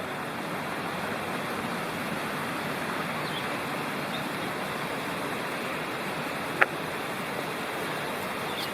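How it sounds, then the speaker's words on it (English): A noisy creek rushes steadily along the Twin Creeks Trail in the Great Smoky Mountains, a broad, even wash of flowing water with one sharp click partway through. "Here's the Noisy Creek."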